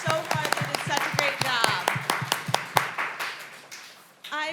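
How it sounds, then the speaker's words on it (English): An audience claps in rapid, sustained applause for competing teams at a student competition event, thinning out toward the end, with a voice speaking over it. "let's give a big round of applause for all of our teams"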